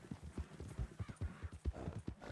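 Horse hooves clip-clopping at a steady walking rhythm in the Red Dead Redemption 2 video game, close and fairly loud, with soft game ambience behind.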